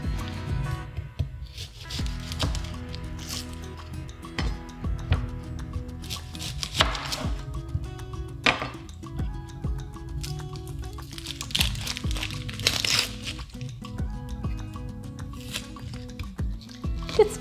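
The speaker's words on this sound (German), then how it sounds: "Die Zwiebel wird in kleine Würfel geschnitten." A knife chops an onion into small cubes on a cutting board while preparing a vegetable cabbage soup, with rapid, steady knocks of the blade repeating close up and throughout, and no talking.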